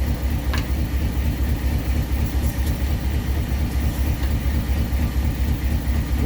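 A 1959 Ford Fairlane 500 engine idles close by with a loud, steady, low pulsing rumble in an even rhythm, plus a brief click near the start.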